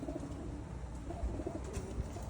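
A white pigeon or dove coos softly near its nest, a few low, rounded calls repeating faintly over a steady background hum.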